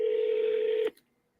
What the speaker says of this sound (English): So about to dial them up right now.